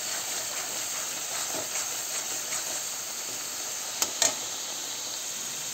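Free-range chicken with turmeric being cooked in a pan, giving a steady, hissing sizzle under a high steamy tone, with a couple of sharp clicks from the utensil near the end and no voices.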